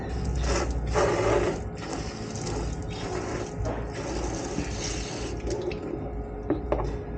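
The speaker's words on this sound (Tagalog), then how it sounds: "So, ang gagawin ko dito ay sprayan ko na lang ng tubig." Water sprays hard into the wheel-well fender of a Toyota Wigo to flush out dirt. The hiss is steady and close, with splattering and dripping running through it and no talking.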